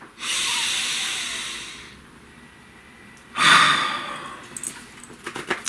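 A slow, deep breath drawn in long and steady, then after a pause a stronger, rushing exhale, close to the mic with quiet room tone around it.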